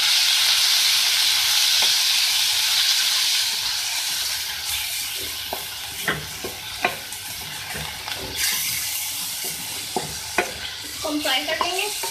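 Chicken and garlic-ginger paste fry in hot oil, opening with a loud, dense hiss that settles into a softer sizzle punctuated by repeated scraping stirs and sharp spatula clicks against the pan.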